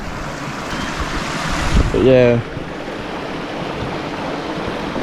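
Rushing river water by a waterfall in remote Tasmanian trout country, a steady broadband roar that runs the whole time, with someone talking briefly over it partway through.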